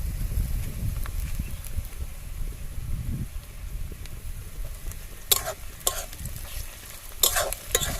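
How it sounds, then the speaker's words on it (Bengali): Ginger garlic paste fries in a pan under a close, constant sizzle while a utensil scrapes and stirs it, with several sharp clatters of metal against the pan near the end. No one speaks. "এবার আদা রসুন বাটা দিয়ে দেবো"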